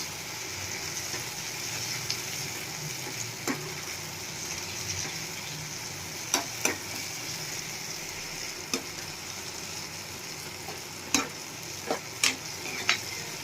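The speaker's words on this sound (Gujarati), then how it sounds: "હવે આપણે એમાં લાલ મરચું એડ કરી દઈશું, જે આપણે ખાંડીને રાખ્યું હતું એ 1 મોટી ચમચી જેટલું, અને મિક્સ કરી લેશું એકદમ સરસ" Ground red chili powder being stirred into tomatoes cooking in hot oil for a Gujarati okra curry. A soft, continuous sizzle runs throughout, with occasional clicks and scrapes of a spoon against the pan, close and fairly quiet, with no voices.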